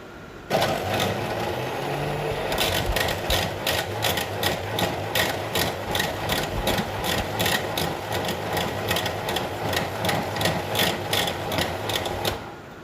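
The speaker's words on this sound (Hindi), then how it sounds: "बहुत ही स्मूथ इसके चाहिए होगी मुझे, तो मैं इसको अच्छी तरह से ब्लेंड कर लूँगी" Blender grinding apricot chutney until smooth, a loud continuous whir with rapid rhythmic pulsing and rattling that runs steadily and stops near the end.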